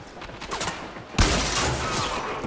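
Gunfire in the video game Warframe: a sudden loud burst of rapid shots that continues as a dense, sustained volley after a quieter opening.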